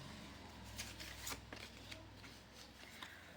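Tarot cards are shuffled and drawn by hand in a quiet room: soft, faint riffling and flicking with a few sharper card snaps.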